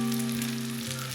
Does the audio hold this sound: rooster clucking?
no